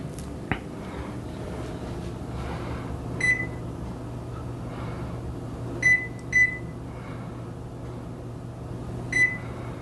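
A convection oven is shut and set for its cooking time, a sharp click of the closing door followed by several short electronic beeps over the steady hum of its fan.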